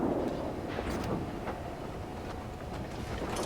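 Warship main guns firing in a naval combat video game, heard as a continuous loud rumbling roar with several sharp booming bursts spread across a few seconds, no talking.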